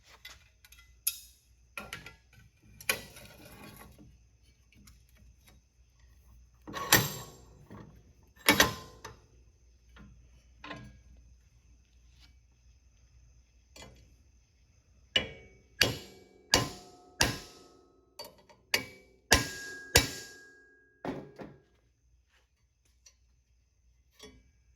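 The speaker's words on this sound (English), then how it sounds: "I'm going to hammer it from this side, and hopefully it'll get started rounding that over" A D nut held against a vise being tapped with a hammer during a Model A hot rod build, bursts of sharp metallic strikes, with a tight series of evenly spaced blows near the end and quiet gaps between.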